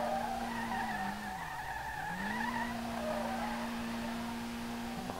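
Understeering car skidding in the video game SLRR, a steady loud tire squeal with engine drone that dips in pitch midway and then holds again, alone without talk.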